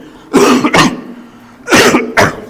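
A man coughs close to the microphone, two pairs of harsh, throaty coughs separated by a short pause.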